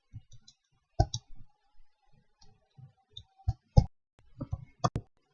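Sharp computer keyboard clicks and keystrokes in irregular bursts, close and fairly quiet, while code is erased in a Java programming lesson; no talking.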